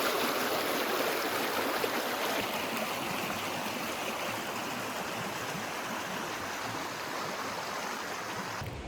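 Steady broadband rush of a stream running right beside a backcountry campsite on a backpacking route through Death Hollow on the Boulder Mail Trail, continuous and fairly loud with no voices over it.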